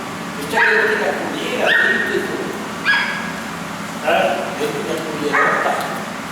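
A small dog at a mountain pasture hut at Malga Caserina near Scurelle, 1486 m up, gives five short high yips and whines spaced about a second apart, fairly close, over a low outdoor background.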